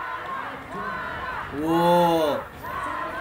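Large crowd cheering and shouting from a played video of a singing competition final, a broad swelling roar under a voice exclaiming, with a louder tonal burst in the middle.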